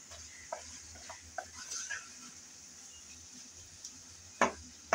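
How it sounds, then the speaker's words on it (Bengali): Tomato and green chilies frying in a pan for a pumpkin-leaf and shrimp dish give off a faint, low sizzle while a utensil stirs, with a few soft scrapes and one sharper clink near the end. "আবারও একটু নেড়েচেড়ে মিশিয়ে নিলাম।"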